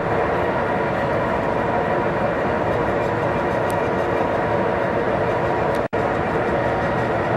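Amtrak's California Zephyr roars steadily through a mountain tunnel, a loud, continuous rumble with faint rail clatter and a brief dropout near the end.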